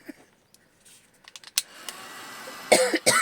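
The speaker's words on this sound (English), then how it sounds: "I'll cough while that's drying." A person coughs at a crafting desk while working on junk journal ephemera. Brief, close coughs are mixed with light taps and rustles, then a steady airy drying noise rises near the end.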